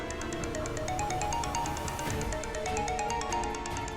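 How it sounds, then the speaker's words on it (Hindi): A phone rings with a repeating electronic melody, steady and close, with no talking. "भाई का फोन है।"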